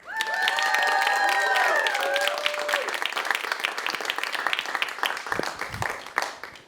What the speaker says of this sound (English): All right, round of applause for Nastia, y'all.